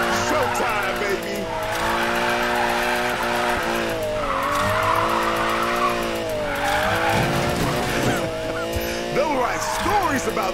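A Lamborghini drifting in the racing game NFS Payback, its engine droning and shifting pitch while tires squeal continuously and loud throughout, with voices talking over the action.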